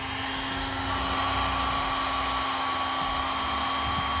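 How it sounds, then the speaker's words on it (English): Heat gun warming the badges on a Subaru Forester on a hot day in Utah, a steady close blowing hum with a constant whine, no talk. "we're just gonna heat these up with my heat gun and then start pulling them off"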